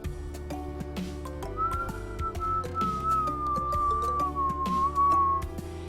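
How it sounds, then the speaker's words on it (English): A character in the video game Dysfunctional Systems whistles one long, sustained, slightly wavering note lasting several seconds over steady background music. "He whistles long."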